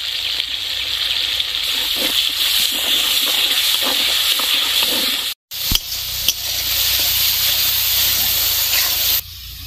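Ground onion, garlic, dried and green chili paste with bay leaves, cumin and coriander spices frying in a hot pan for a curry, giving a loud continuous hiss and sizzle that briefly cuts out midway and then resumes.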